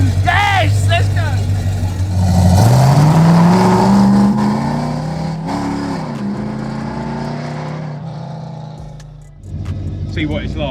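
A big block Chevy V8 in a rare Camaro Z28 revs hard, pitch climbing and holding at high rpm before easing off and dropping to a rumble, then picking up again, loud and close with voices talking over it.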